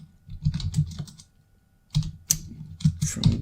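Quick bursts of tapping on a computer keyboard, clustered keystrokes broken by a short pause, close and fairly quiet.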